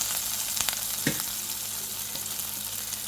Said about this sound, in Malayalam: അതിലേക്ക് ആ എണ്ണയിലേക്ക് തന്നെ കുറച്ച് ഇഞ്ചി, 2 പച്ചമുളക്,